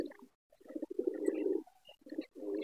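Pigeons coo in a coop, a series of low rolling murmurs in several bursts broken by short pauses, fairly close and moderately loud, with faint higher chirps in the background and no talking.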